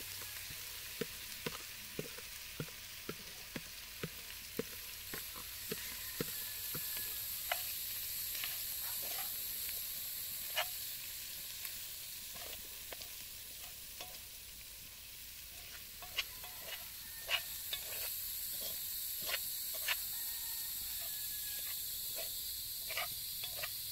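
Corn sizzles in a hot Dutch oven as a soft, steady hiss, with sharp clicks and pops scattered across the whole stretch.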